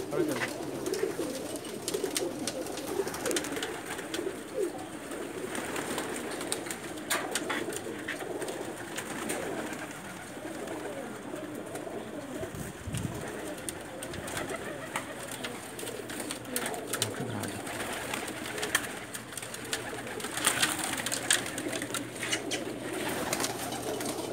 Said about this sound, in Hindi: बहुत अच्छे कबूतर हैं इनके पास माशाल्लाह